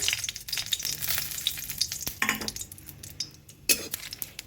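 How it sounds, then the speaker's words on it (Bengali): Green chillies frying in plenty of mustard oil in a wok, a steady crackling sizzle with metal utensil scrapes and clinks throughout. "লঙ্কাটাকে একটু ভেজে নেব"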